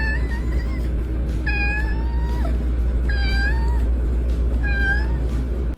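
A shy cat meows repeatedly, four distinct rising-and-falling calls spaced a second or so apart, close and clear over a steady low hum.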